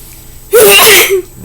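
A single loud, close sneeze from a person, a sharp burst with a breathy gasp at its start, heard by itself during an indoor fingerboard unboxing and assembly.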